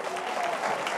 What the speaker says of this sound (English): please give a round of applause to the story of the lost son.